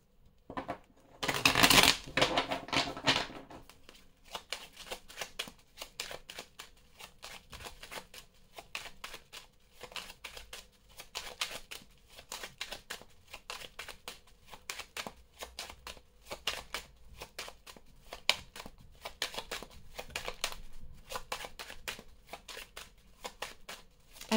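Belline oracle cards being shuffled by hand, a loud burst of riffling near the start followed by a long run of soft, rapid card flicks and taps, with no talk.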